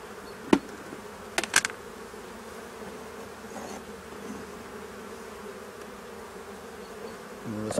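Honey bees hum in a low continuous drone at an opened hive during a spring inspection, with a few sharp clicks and knocks of frame handling over the buzzing.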